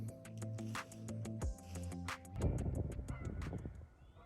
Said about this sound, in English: They're chasing off a goose.